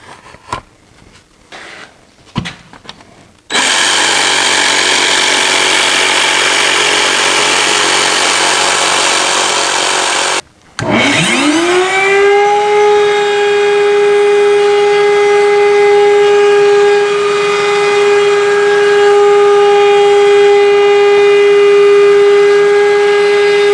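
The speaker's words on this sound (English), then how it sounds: "jigsaw." A jigsaw cuts traced wooden drawer profiles, giving a loud, close, harsh buzzing for about seven seconds after a few knocks. A steady tonal motor whine then runs to the end.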